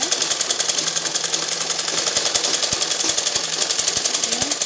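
A sewing machine stitches a 42-inch blouse, its steady mechanical ticking running continuously and fairly close, with a faint voice now and then.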